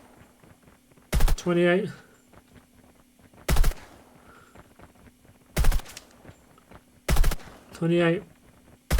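Cipher gun fired from the hip in a video game: several sharp, loud bursts of shots at spaced intervals, with someone speaking briefly between some of them.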